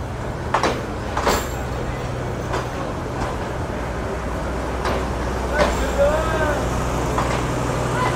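The Mohua Commuter, a packed passenger train at Mymensingh Junction, rumbles past with a steady low drone and occasional squeals and clanks, while someone talks over it.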